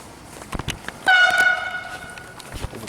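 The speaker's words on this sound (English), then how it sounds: "There's a train coming past." A train passes near Lake Garda in Italy, sounding a short horn blast over a steady background rumble, heard from close by.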